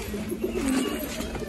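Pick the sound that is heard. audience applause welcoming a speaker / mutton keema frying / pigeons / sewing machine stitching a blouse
pigeons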